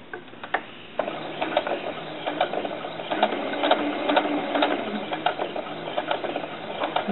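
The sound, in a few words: sewing machine stitching along a dart on doll dress fabric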